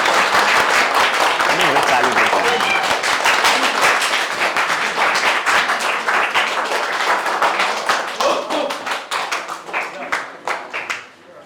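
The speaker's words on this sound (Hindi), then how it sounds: "मतलब ताली" Students clapping together in a hostel, dense continuous applause that stays loud throughout and thins into scattered individual claps at the end.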